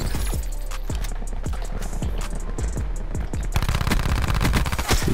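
Switchblade X9 submachine gun firing in Call of Duty Black Ops 4, rapid repeated bursts of gunfire, loud and continuous, with no speech.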